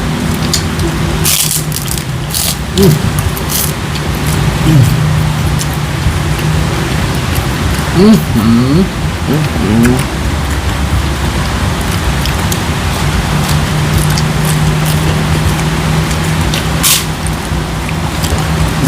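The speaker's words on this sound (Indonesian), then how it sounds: "Wah, buru guys hujan ya." Steady rain pours down, a dense hiss of drops on surfaces filling the whole stretch, with a few brief clatters and no talking.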